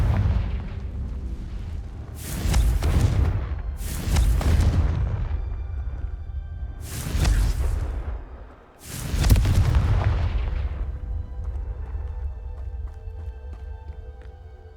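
Confringo explosion spells cast in Hogwarts Legacy on PC: four loud, booming blasts arrive about two to three seconds apart, each followed by a rolling rumble that fades before the next.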